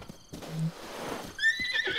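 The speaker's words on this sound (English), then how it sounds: "Oh, this horse is getting real annoying." A horse whinnies in the video game Breath of the Wild, a clear high neigh rising near the end over a low rumble and faint hoof clops, with no talking.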